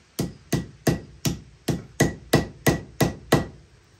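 Ten sharp, evenly spaced hammer blows set rivets into a handmade leather sheath, each strike close and crisp with a short ring, alone with no talking.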